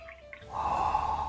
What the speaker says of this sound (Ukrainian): От, давайте його трошки розбавимо звичайною водою